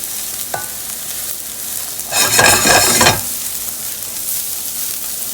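Mushrooms fry in olive oil, giving a steady low sizzle, with a burst of louder scraping and stirring in the pan around the middle.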